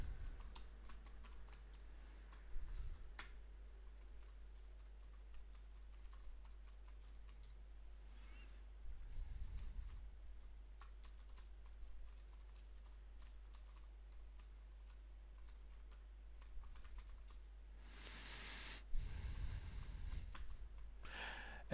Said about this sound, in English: And if you type something into it